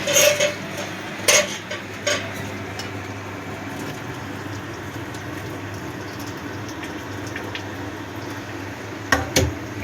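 Boiled Nutrela soya chunks being drained of water and rinsed in a kitchen, soft trickling and splashing with a few sharp clinks of a utensil or pot, fairly quiet and close.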